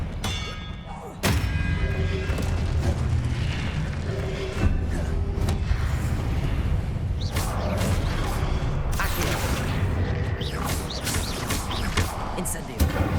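Expelliarmus, the disarming spell in the video game Hogwarts Legacy, is cast amid dense combat audio, with repeated heavy thuds, booms and whooshes over a continuous loud background.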